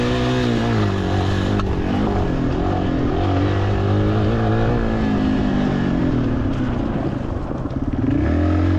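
A Yamaha dual sport motorcycle, an XT225 or DT50, rides a trail near Belfair, Washington, with a steady, loud engine drone that rises and falls in pitch as the throttle changes, and no one speaks.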